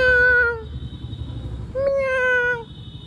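A cat in a village house yard meows twice, each cry loud, close and drawn out, with a short gap between them over low background noise.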